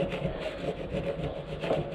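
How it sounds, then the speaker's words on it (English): A scraper rasping rust and grime off a BSA Bantam motorcycle frame, a continuous gritty scraping with quick repeated strokes, close and fairly loud with no talk. "I decided to go and get a scraper and just see what would happen. And all this is actually coming off."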